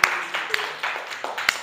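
A class claps together in a quick, uneven patter of hand claps with rhythmic surges.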